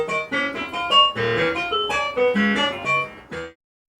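A John Cage–style prepared piano, its strings fitted with bolts, pencils and bottle caps, struck in a run of bright, buzzy, metallic-tinged notes and chords for a few seconds before stopping abruptly into silence.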